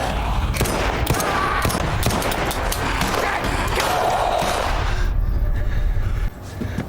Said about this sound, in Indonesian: Beth yang mati-matian bersembunyi akhirnya harus tewas terkena peluru nyasar geng Todd